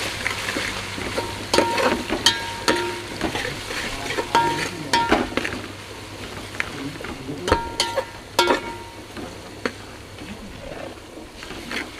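Ginger garlic paste and turmeric sizzling in a pan for egg dum biryani, steady frying hiss with repeated scraping and clinking of a spoon stirring, close and clear.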